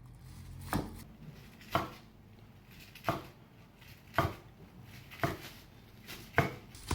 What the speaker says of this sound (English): to cut this sushi roll, I'm going to use this plain plastic